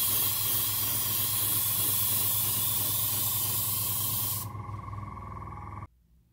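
Airbrush hissing out very thinned Vallejo Black Grey paint onto a scratchbuilt starship model, a steady close spray over a faint mechanical hum that cuts back partway, then stops.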